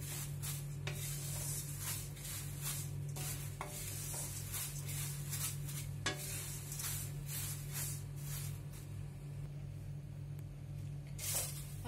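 Thin patal poha flakes dry-roasting to golden brown in a pan for Diwali chivda, stirred steadily so they give a continuous dry rustling scrape with repeated stirring strokes over a low steady hum, with no talk.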